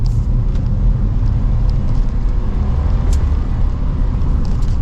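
A 2021 Geely Azkarra hybrid turbo crossover accelerating at one-third throttle, heard from inside as a steady loud low rumble of engine and road noise with faint light clicks.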